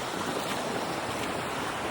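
Sea waves wash onto a beach near Da Nang, Vietnam, in shallow water, making a close, continuous rushing surf with some wind noise.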